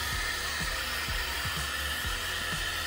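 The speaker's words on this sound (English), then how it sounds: "I made sure that I went ahead and I got my blow dryer, and that helped me create a lot of force" A blow dryer roars in a steady, loud rush of air aimed at wet epoxy resin to push ripples across it, with faint rhythmic low thumps beneath the blowing.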